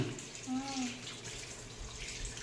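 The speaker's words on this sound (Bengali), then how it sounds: "এখানে কি মাংস ধোয়া চলছে এখন?" Tap water runs steadily into a sink while raw meat is washed in a home kitchen, a soft continuous splashing with a brief tonal clink early on and faint household sounds behind.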